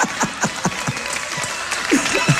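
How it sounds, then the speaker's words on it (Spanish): A studio audience at a televised team competition claps in a brief, uneven burst of applause while a host talks over it. "Apláudalo por favor al señor talentosísimo"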